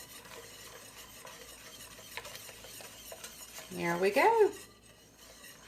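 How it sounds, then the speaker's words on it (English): A whisk stirs grits in a covered pot, with soft scraping and clinking against the pot that swells into a louder burst of stirring, while a voice speaks briefly over it. "I will lift the lid and stir."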